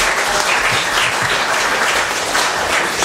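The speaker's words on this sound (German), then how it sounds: "das ist auch ein Applaus wert" Loud, dense applause from an audience at a regional TV event, steady and continuous clapping with no voices on top for the full stretch.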